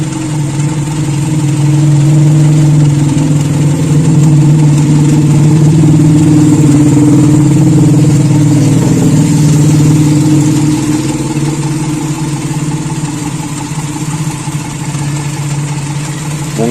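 A Toyota Kijang Super 5K engine fitted with an Aisan carburetor and FMT jets runs loud and steady at close range, its even idle-like drone swelling slightly midway and then easing.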